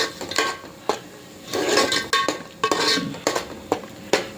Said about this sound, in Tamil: இந்த பச்சை வாசனை போகிற வரைக்கும் நல்லா மிக்ஸ் பண்ணிகிட்டே இருக்கணும்.